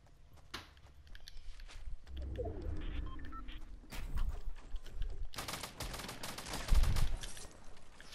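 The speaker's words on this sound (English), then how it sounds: "Those are shots." Gunfire in a Fortnite Battle Royale match near a gas station, several sharp shots and bursts at mid distance over game ambience, with a loud burst near the end.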